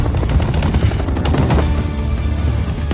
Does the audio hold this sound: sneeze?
no